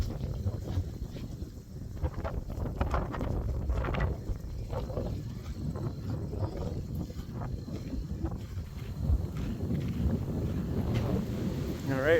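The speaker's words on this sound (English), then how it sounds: "Kind of hard to tell with all the wind kind of blowing it over sideways a little bit." Strong wind blows steadily across an open grass prairie at a state park, buffeting the microphone with a continuous low rumble and gusts throughout.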